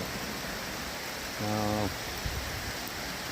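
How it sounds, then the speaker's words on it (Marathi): A steady, even hiss of rain falls throughout, with a brief tonal hum rising over it partway through. "हे बघा हे पाऊस अगदी चांगल्या प्रकारे येतोय बघा पाऊस"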